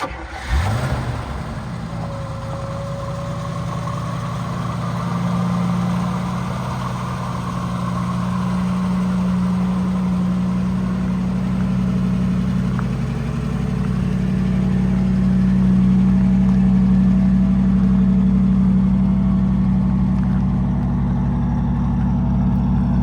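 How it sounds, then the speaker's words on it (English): A 1955 Buick engine idles steadily with a low, even rumble, close by, swelling slightly in level partway through, with no voices over it. "I think that the car is idling well and there's no issues that it's going to die."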